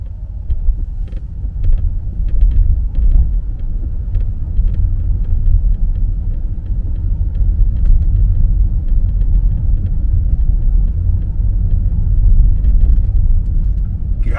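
Inside a moving Tesla Model S Plaid, the rear seat unit gives off faint irregular rattles and creaks over a steady low road rumble, with no talking.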